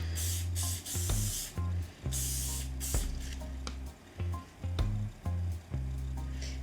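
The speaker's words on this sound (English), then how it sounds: "And spray underneath as well" Several quick hissing bursts of hairspray aimed underneath hot-rollered vintage-styled hair for lift, close and fairly loud, separated by brief pauses and handling rustle.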